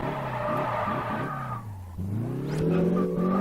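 A car in Test Drive Unlimited brakes too hard and skids, tires squealing loudly as the engine note drops and then climbs again, close and continuous with no talk.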